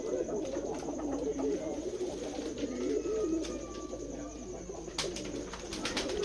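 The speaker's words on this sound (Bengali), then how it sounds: "আমাদের এখানে সব ধরনের কবুতর পাখি পাবেন" Pigeons coo softly and repeatedly in a low, rolling murmur at a pigeon farm in Jessore, with a few faint chirps and clicks in the background.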